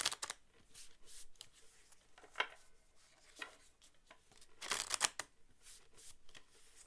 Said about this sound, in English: Just give them a good shuffle.